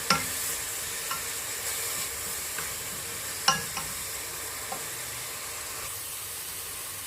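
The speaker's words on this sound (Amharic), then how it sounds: "ዘይታችንን ካረግን በኋላ ሁለት ራስ ድቅቅ ብሎ የተከተፈ ቀይ ሽንኩርት አዘጋጅቻለሁ እንጨምራለን" Finely chopped red onions frying in oil in a pan for lasagna, a steady close sizzle broken by a few sharp clinks and scrapes of a spoon, with no voices.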